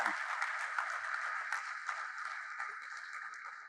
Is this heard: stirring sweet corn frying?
no